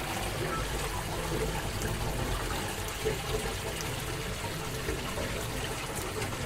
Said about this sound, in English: So you see that the water is flowing over.